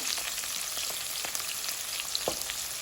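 Chopped green chillies frying in oil in a pan for a sweet bitter gourd stir-fry, a steady close sizzle with scattered sharp pops and crackles, no voices.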